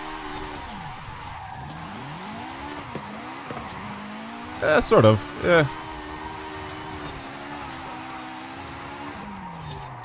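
Car tires squeal and skid in two sharp bursts mid-clip as a car slides around a custom race track in Forza Horizon 5, over a steady engine drone with someone talking casually throughout.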